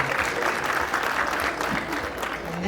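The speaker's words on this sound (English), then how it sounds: "Please clap for her" An audience applauds a prize winner at a university artificial intelligence boot camp commissioning ceremony, a steady, dense wash of clapping hands that holds evenly throughout.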